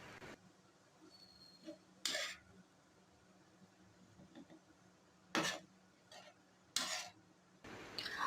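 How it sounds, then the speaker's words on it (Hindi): Mashed potatoes mixed with spices in a pan, faint scraping and stirring with a few sharp louder clanks of a spoon against the pan at irregular intervals, no talk. "आलूओं को इन मसालों के साथ अच्छी तरह से हम मिक्स करेंगे।"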